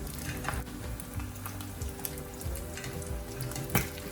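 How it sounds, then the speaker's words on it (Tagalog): Chicken skin deep frying in hot oil, a steady crackling sizzle with scattered sharp pops and spatters, continuous and close, with faint clinks of utensils underneath. "Umpisahan na nating magprito uli."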